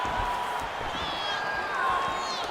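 Arena crowd in the UFC 6 video game, at an Israel Adesanya vs Joe Pyfer fight, keeps up a steady broadband roar of cheering and oohing, with a few whistles rising over the top.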